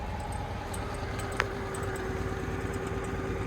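The small two-cylinder engine of a Citroën Acadiane with 58,000 km, which has a leak at the accelerator pump, idles close by with a steady, even putter and one brief click partway through.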